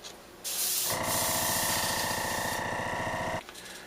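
Airbrush spraying a mix of transparent red and black paint onto a jerkbait fishing lure: a steady, loud hiss that starts abruptly, holds for about two and a half seconds, then cuts off, with softer air noise around it.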